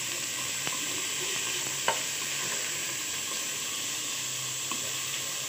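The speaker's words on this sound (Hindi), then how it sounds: "और इसको हम अच्छे से इसी ऑयल में फ्राई करेंगे थोड़ा सा" Pocket shawarma fries in oil with a soft, continuous sizzle, punctuated by a few light taps of a spoon against the pan, fairly quiet and without talk.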